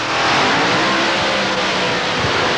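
A two-door Ford Falcon race car with a supercharged Cleveland V8 roars loudly and continuously at close range, a dense, steady blast of engine noise.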